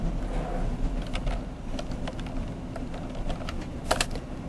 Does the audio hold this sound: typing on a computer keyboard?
yes